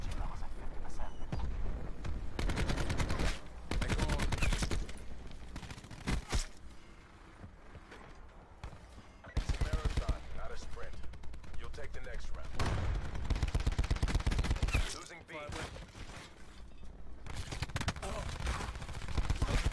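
Rapid automatic gunfire from the Call of Duty Black Ops 4 video game, with a Switchblade weapon, rattles in repeated loud bursts with brief gaps between them, and game sound fills the background.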